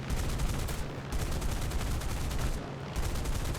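Rapid cannon fire from an F6F-5N Hellcat night fighter in War Thunder, a dense continuous burst of gunfire with two short gaps, loud and steady throughout.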